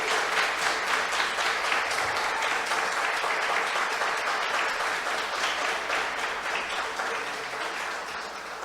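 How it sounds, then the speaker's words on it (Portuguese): A church congregation bursts into loud, sustained applause during a Portuguese-language worship service, the dense clapping steady throughout and tapering slightly near the end. "Eu quero convidar você a dar um forte aplauso àquele que vive e vive para sempre."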